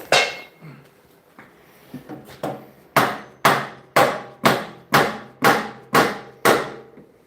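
A hammer strikes the frame of a bobber motorcycle being built in a workshop: a few scattered taps, then about nine loud, evenly spaced blows, each ringing off briefly, close by.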